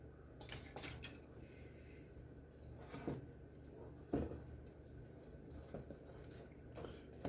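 Apple cinnamon oatmeal cookie dough stirred in a bowl with a utensil, quiet continuous scraping and soft clinks against the bowl with a few sharper knocks.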